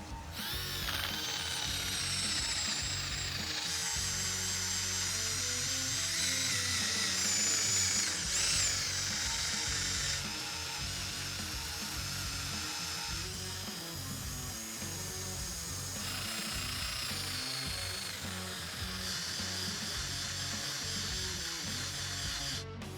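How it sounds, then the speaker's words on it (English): A power drill fitted with an eraser wheel whirs continuously at high speed removing tape residue from a car's paint, its pitch shifting slightly as the spinning wheel presses and rubs against the surface. "I'm going to use an eraser wheel with a drill"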